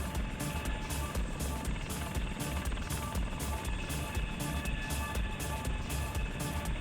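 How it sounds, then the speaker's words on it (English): A Lynx helicopter in the FlightGear flight simulator beats steadily with a rapid, even rotor chop over a dense, loud engine roar, continuous and with no talk. "I'm in a Lynx helicopter"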